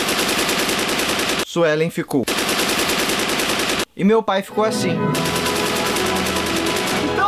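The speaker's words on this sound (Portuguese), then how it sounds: "Começou o tiroteio." Rapid bursts of automatic gunfire rattle loudly and continuously, broken twice by brief pauses where a voice speaks, then the firing resumes.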